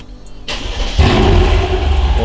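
A Mercedes-Benz W222 S63 AMG with an aftermarket exhaust cranks and fires up, a sudden loud burst followed by a deep, rumbling idle that stays steady and close.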